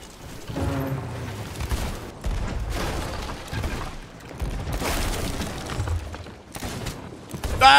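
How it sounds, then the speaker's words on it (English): Fireworks set off during an online shooter match, heard as dense crackling bursts and booming pops that keep going for several seconds, loud and close, with a sharp burst at the end. "You accidentally used our fireworks."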